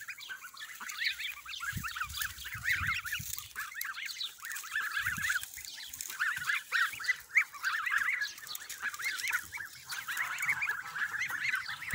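Many Kholmogory goslings out in a field call continuously in high, peeping honks, a busy overlapping flock chorus with a few deeper honks nearby.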